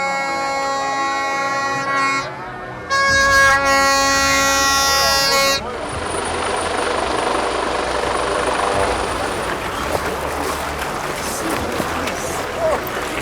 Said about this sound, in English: The official helicopter of the Vice President of Nigeria, Kashim Shettima, arrives at the Chari Meigu